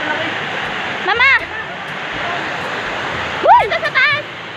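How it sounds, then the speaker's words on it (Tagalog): Steady broad rushing of water at Tagupak Falls on a river, filling the whole stretch evenly, with excited voices calling out over it twice. "Tapos ayun yung ilog falls."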